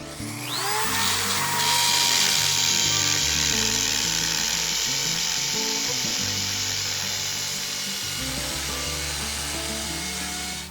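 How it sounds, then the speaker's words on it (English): A hammer drill on drill setting, not hammer mode, whines steadily at close range drilling holes for a step railing, its motor pitch shifting as it bites into material, running continuously for several seconds before winding down. "I'm using the hammer drill on the drill setting, not the hammer setting."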